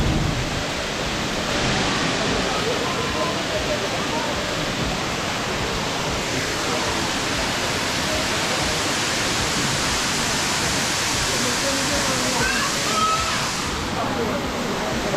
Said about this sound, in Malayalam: അപ്പോൾ ഇതിൻ്റെ മുകളിൽ നിന്ന് നമുക്ക് അടിപൊളിയായിട്ട് കാണാൻ പറ്റുന്നുണ്ട് വെള്ളച്ചാട്ടം.